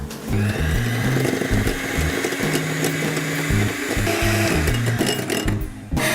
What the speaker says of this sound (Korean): 크림치즈는 중속으로 휘핑을 좀 부드럽게 풀어줄게요